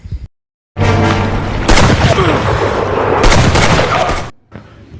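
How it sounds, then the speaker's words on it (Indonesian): A gunshot in an Indonesian hunting film: a loud, sustained burst of boom and blast noise follows a brief silence, holding at full strength for several seconds before cutting off abruptly. "si ojek ini malah menemukan si Agnes yang langsung menembaknya"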